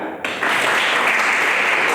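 A seminar audience at a church event on Christian marriage claps steadily, a soft, even patter that swells after a brief quieter start and holds without pause.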